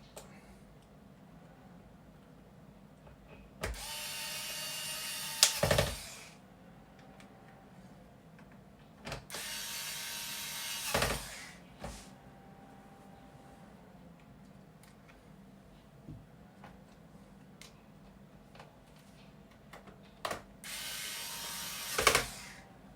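Big screws are unscrewed from an ASUS X453M laptop with power stuck, heard as several separate bursts of ratcheting, clicking screwdriver turns spaced a few seconds apart, close over a quiet room hum.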